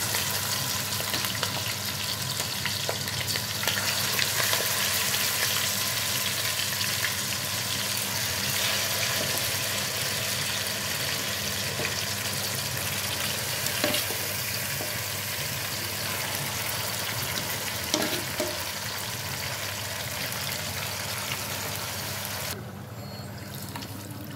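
Chicken pieces and four green chilies frying in a pan for a spicy chicken dum biryani, a steady close sizzle with faint stirring and liquid bubbling running unbroken throughout, no talking.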